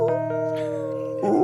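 A voice imitates a wounded dog, a sustained whining howl that holds steady and then rises into a strained, wavering cry at the end, loud and close with no other talk.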